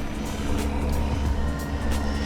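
An E-flite Ultra Stick RC plane flying overhead, its electric motor giving a steady buzzing drone with a slightly rattly edge, fairly loud and continuous, no voices.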